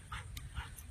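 Goldendoodle in training giving a few soft, brief whimpers and yips close by, fairly faint, over a low rumbling background.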